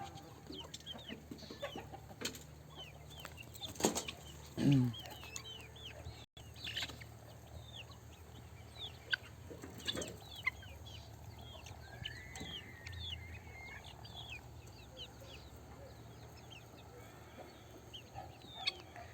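Native country chickens, including a crossbred rooster and hen, cluck and call around a farmyard at feeding time, with a brief burst of louder fowl noise partway through and scattered bird chirps throughout.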